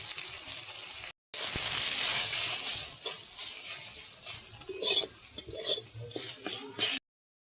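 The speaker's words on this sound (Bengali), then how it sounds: "শাকটা আমি জল ঝরিয়ে নিয়েছি, এবার তেলের মধ্যে দিয়ে দিচ্ছি।" Drained boiled greens fry in oil in a wok with a loud, continuous sizzle and repeated scraping stirs, briefly cut off near the start, close and without speech.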